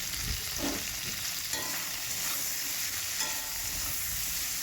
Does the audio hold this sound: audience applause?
no